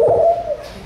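A person's voice imitates a pigeon cooing with one short, loud, breathy coo that trails off quickly, heard close and alone.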